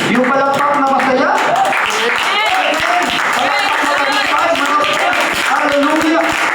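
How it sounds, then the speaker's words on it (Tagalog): Scattered clapping from a church congregation keeps going throughout, mixed with loud crowd voices and a voice over a microphone, dense and close with no letup. "Palakpakan po natin ang ating Panginoon, mga kapatid."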